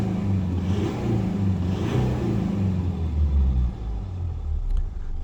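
A Mitsubishi Triton's 4D56 diesel engine, being checked for intermittent low power, revs up in a deep rumbling surge that swells and eases twice before settling back to a lower idle.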